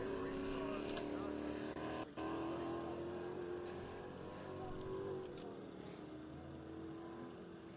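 Off-road race cars climb a wet rock waterfall at an Ultra4 race, engines droning steadily and loud throughout with revving surges and announcer commentary over the top.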